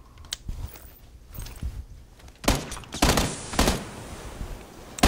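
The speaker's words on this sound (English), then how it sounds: "I'm getting shot at." PUBG gunfire, several sharp loud shots in an irregular spread with a tight cluster near the end, plus smaller thuds and movement noises in between and no talking.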